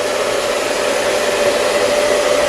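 Hair dryer set to high heat and low air during salon styling of short to medium length hair, a loud steady close-up whirring blow with a constant motor hum, no voices.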